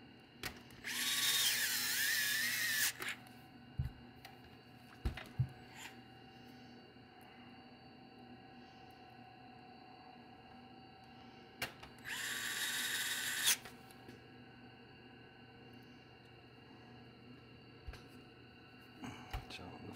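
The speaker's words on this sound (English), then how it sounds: "I'm just gonna put the 6 screws back in." Screws being driven back into a Pioneer AVIC-5201 navigation unit with a small power driver, two short whirring bursts separated by quiet clicks and handling noises, fairly close.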